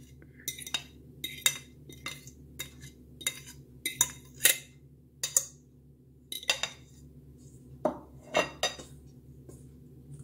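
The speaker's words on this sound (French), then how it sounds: "et je mélange" Milk and beaten egg being stirred into biscuit dough in a bowl, with a utensil repeatedly clinking and scraping against the bowl in irregular bursts, close and clear, with quiet between strokes.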